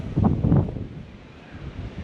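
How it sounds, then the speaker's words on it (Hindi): Strong wind buffets the microphone in heavy rumbling gusts that ease off into a steady low roar. "अभी भी चल रही बहुत तेज़ हवा"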